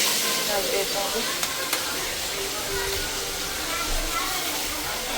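A pot of sugar-free mixture is stirred as it is heated to a boil in a home kitchen during Diwali, giving a continuous close hiss and simmer.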